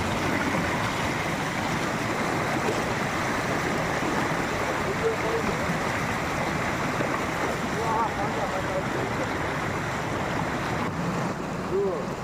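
Rain-swollen hill runoff surges along in Gujarat, a continuous broadband rushing roar of fast water, near and even in level, with faint brief tonal sounds but no clear speech.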